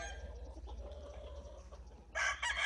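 Free-range fighting roosters at a gallera, faint clucks and murmurs giving way to a loud, close crow bursting out near the end.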